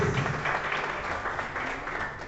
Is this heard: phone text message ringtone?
no